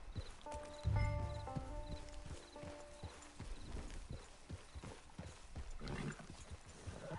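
A horse in the video game Red Dead Redemption 2 clip-clops at a steady walking rhythm, and its hoofbeats repeat evenly throughout. Soft game music tones play early on.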